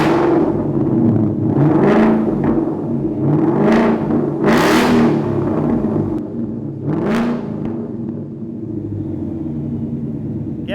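Mustang GT fitted with an AWE Track Edition cat-back exhaust: a loud, deep idle rumble broken by several sharp revs that rise and fall in turn, close by, with no talking.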